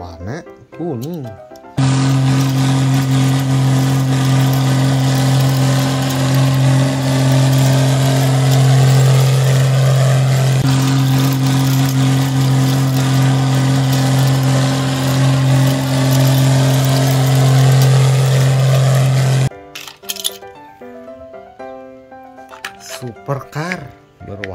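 A loud, steady droning motor hum runs continuously for about eighteen seconds before stopping abruptly, like a toy tractor's engine sound.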